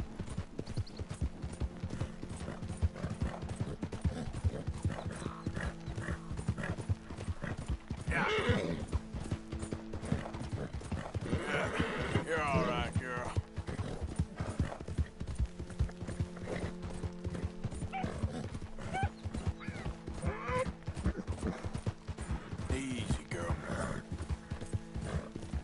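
A horse gallops in the video game Red Dead Redemption 2, with steady rapid hoofbeats, neighs and some mechanical clicking throughout, while people talk over it.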